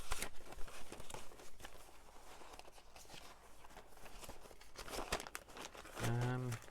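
Crisp music paper page being handled and crinkled, rustling close by in short bursts amid other handling noises, with a brief voice at the end.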